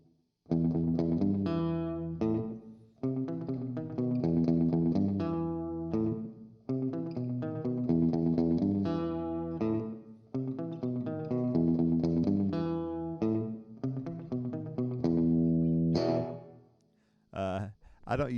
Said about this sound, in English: Let's try the gritty slapback clean.